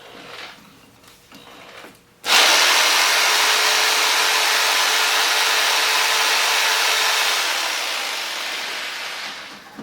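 An electric sander runs on power from a Jackery Solar Generator 1000 v2. It starts abruptly and holds a loud, steady whirring buzz for several seconds, then eases off slightly toward the end.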